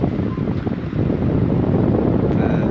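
Strong wind roars steadily against the microphone on a mountain road near Pamal village, a constant low buffeting rush with no break throughout.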